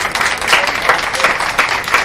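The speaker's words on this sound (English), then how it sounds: "I would just like people to clap if you belong to a church" A rally crowd in Franklin, North Carolina claps together, a dense patter of many hands with rhythmic swells, fairly loud and close with no talk over it.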